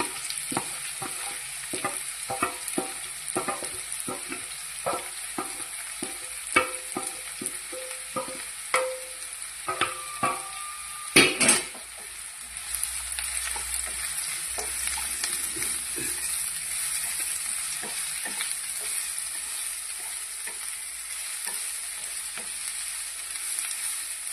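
Small shallots and large onions frying in a pan for a tapioca biryani. Brisk spatula scrapes and stirring clatter in the first half settle into a continuous sizzle, with no voices.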